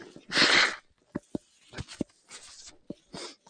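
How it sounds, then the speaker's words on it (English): A single loud sneeze comes close to the mic from someone with sudden hay fever, followed by faint sniffs and small clicks in a quiet room. "I'm going to sneeze. I've got bad hay fever suddenly."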